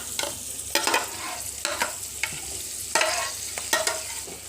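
Peas and raw onion frying in a pan, a close, loud sizzle broken by a regular rhythm of spatula stirring strokes.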